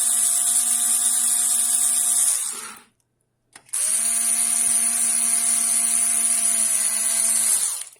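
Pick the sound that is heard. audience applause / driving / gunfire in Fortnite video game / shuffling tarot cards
driving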